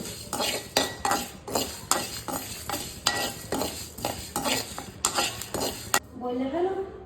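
Mustard seeds fry in a pan for a chalta pickle, stirred with a metal spoon in steady rhythmic scrapes and clinks about twice per second over a soft sizzle, with a brief voice near the end.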